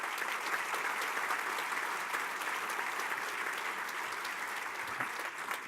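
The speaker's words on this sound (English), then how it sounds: "So I'd like to give her a round of applause now just to thank her for those efforts" Steady audience applause at a State of the Cities event honoring Mayor Williams, a dense, even wash of many hands clapping at moderate distance, continuing without a break throughout.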